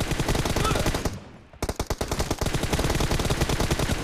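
Rapid automatic gunfire in a team deathmatch video game, loud dense bursts that cut out briefly for a moment of near quiet before another long rattling volley resumes.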